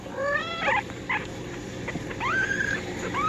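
Baby kittens meow in a few thin, high, rising cries close by, separated by short pauses over a quiet background.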